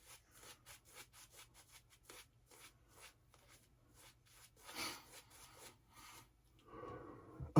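A 1966 new-old-stock Gillette safety razor scrapes across lathered whiskers in a quick series of soft, close rasping strokes, faint and rhythmic, with a slightly longer rustle near the end.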